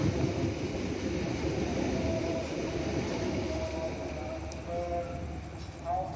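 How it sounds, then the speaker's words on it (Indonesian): Argo Sindoro passenger train running through track 4 at Semarang Poncol station, a steady loud rumble of wheels and cars throughout, with a few faint squeals and clanks near the end. "melintas di jalur 4 stasiun Semarang Poncol KA Argo Sindoro, relasi stasiun Jakarta Gambir menuju stasiun Semarang Tawang"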